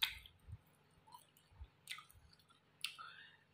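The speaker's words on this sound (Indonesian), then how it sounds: "masih bisa menyantap atau memakan semur daging kambing ini" Close chewing of goat meat stew (semur daging kambing): soft, wet squishy mouth sounds and occasional clicks recur at irregular intervals, quiet and without talk.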